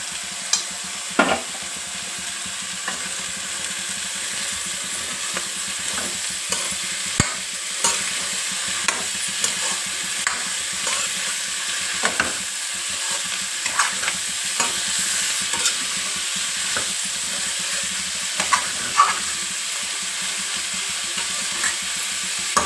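Cauliflower frying in a pan while being stirred, a constant close sizzle punctuated by irregular scrapes and clicks of the spoon against the pan.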